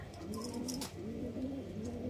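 Sialkoti pigeons coo in soft, low, rolling calls that repeat steadily and close by, with no voices over them.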